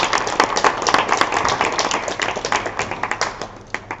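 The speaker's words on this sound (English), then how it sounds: "Why don't we just give them a round of applause for sharing?" Clapping from an audience at a Leeds Poverty Truth Commission launch, with individual hand claps distinct and close, dense at first, then gradually thinning and tapering off.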